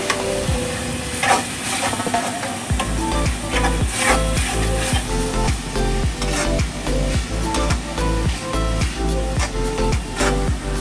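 Green paste of chillies, coriander, garlic and ginger frying in plenty of oil, a loud continuous sizzle with rhythmic scraping stirs against the pan, close up with no talk.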